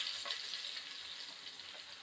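Cumin, asafoetida, curry leaves and garlic tempering in hot oil in a pan: a continuous bright sizzle and crackle, close and fairly quiet, steady throughout with no voices.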